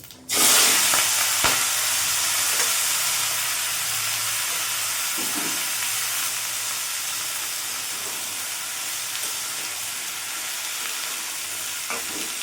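Mixed vegetables drop into hot oil with panch phoron. A loud hiss bursts up at once, then settles into a steady, close sizzle that fades slowly over the following seconds, with no talking.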